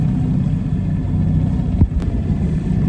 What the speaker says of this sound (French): On n'avance pas tellement, du coup Olivier a mis le moteur.